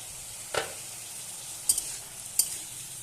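A spoon stirs potatoes frying in a pan, with a few brief scraping strokes over a faint, soft sizzle.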